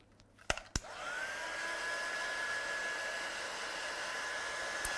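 A heat tool or hair dryer drying a watercolour background for a stamping and die-cut card, switching on with a couple of clicks and then blowing a steady, loud whooshing hiss with a faint whine, close by and alone.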